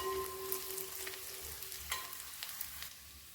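Crushed garlic fries in hot oil for a tuna fish pickle, a steady close sizzle with a few faint stirring clicks and no voices.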